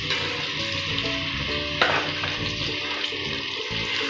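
Chicken masala frying in melted butter for butter chicken, a loud, close, continuous sizzle with scraping and stirring sounds, and one brief sharper burst partway through.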